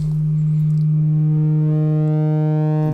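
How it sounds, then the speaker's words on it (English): A steady, loud pure tone from a synthesizer waveform module's cosine wave holds a single low pitch with faint overtones, unbroken for the whole stretch. "here's the cosine wave"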